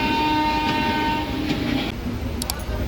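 The Purba Express running from Howrah toward Varanasi, with a loud continuous rumble of the moving coaches and a sustained horn blast, followed by a brief higher whistle near the end.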